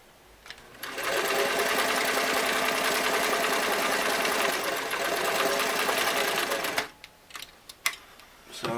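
A Singer Model 337 sewing machine runs a number 3 zigzag stitch through two layers of denim, a steady, fast mechanical whir lasting about six seconds before stopping, followed by a few faint handling clicks.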